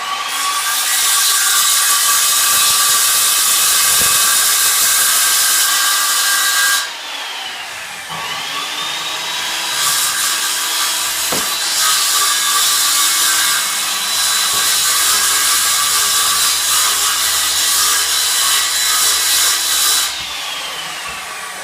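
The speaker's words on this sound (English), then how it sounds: "when I put this skill saw down. So I'm going to just undo a cut here." A handheld circular skill saw cuts through a shop-built Formica countertop with a loud, close, sustained whine, winding down briefly midway before a second long cut and a final spin-down.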